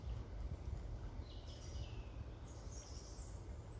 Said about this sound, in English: Can hear a bird in the stream.